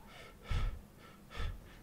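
A voice imitates heavy breathing while slumped over: two deep, audible breaths, a half-second or so apart, close to the microphone in a quiet room.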